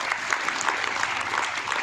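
An audience at a school program applauds in a steady, dense clatter of many hands that fills the room evenly from start to finish with no pauses.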